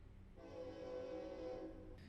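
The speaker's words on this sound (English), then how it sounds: "I have to wait for the train to give my final thoughts" A train passes at moderate distance, its steady rumble swelling and holding for a couple of seconds with a faint tonal, horn-like hum on top, alone without talk.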